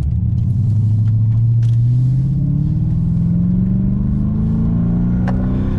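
A Holden VT with a 5-litre engine accelerating at full throttle: a loud, close, continuous engine roar whose pitch climbs steadily as revs rise, heard from inside the car with no speech.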